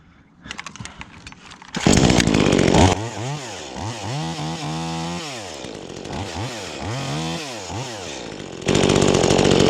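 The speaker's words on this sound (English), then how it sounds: "Saw runs good" A V-Modest 2511 top handle chainsaw, an Echo 2511 clone, runs loud and close, its engine repeatedly revving up and dropping back to idle in rising and falling sweeps, alone without speech.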